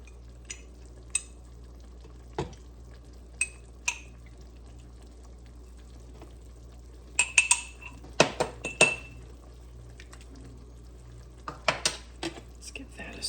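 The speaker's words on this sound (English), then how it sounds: "Let's give that a stir" Japanese curry sauce with ketchup and jelly gets stirred in a pot: scattered clinks and scrapes of a utensil against the metal, with a cluster of sharper knocks partway through, over a quiet background hum.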